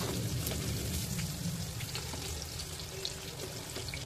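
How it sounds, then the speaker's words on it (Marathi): Prawns frying in hot oil for kolivada, a steady dense crackling sizzle like light rain, continuous and fairly quiet with no talking. "आता प्रॉन्सना गोल्डन ब्राऊन कलर येईपर्यंत फ्राय करून घ्यायचं आहे."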